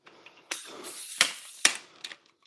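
Ratcheting clicks as legs are shortened: a few sharp, close mechanical clicks and snaps spread over a couple of seconds, with a faint hiss between them.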